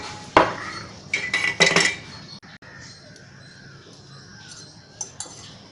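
Metal idli steamer plates clinking and clattering as they are handled in a home kitchen, a few sharp metallic knocks and rattles in quick bursts, then quieter room noise with a faint later clink.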